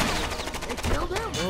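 Blind fire in the video game Rainbow Six Vegas 2: a short, rapid burst of automatic gunshots, loud and close, mixed with game effects and a voice in the background.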